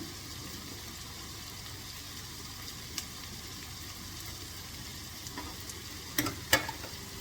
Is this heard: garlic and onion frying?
yes